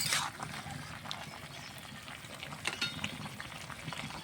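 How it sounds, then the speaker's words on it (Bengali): A dry curry of potato, eggplant and cauliflower bubbles in a pot on the stove, giving a faint, steady simmering hiss with soft pops and no voices. "আর তরকারিটা সুন্দরভাবে ফুটছে"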